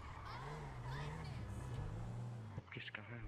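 A police car drives in GTA V roleplay, a steady engine hum with shifting revs running throughout, while people talk over it.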